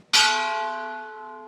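A huge wedding bell at a beach resort in Montego Bay is struck once, a bright loud clang that rings on with a long, steady, slowly fading hum.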